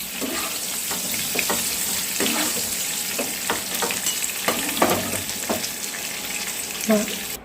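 Pieces of pointed gourd (potol) fry in hot oil with a steady, soft sizzle, broken by occasional light scrapes and clicks from stirring.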